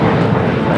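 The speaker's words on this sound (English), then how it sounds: "Aircraft coming in from Phoenix, Arizona" A Delta Connection SkyWest jet arriving at Los Angeles LAX airport from Phoenix, Arizona. It makes a loud, close, steady engine roar through the short moment.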